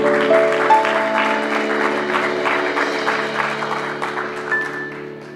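Congregation clapping together during a church service, steady applause sustained throughout with sustained organ-like musical tones underneath.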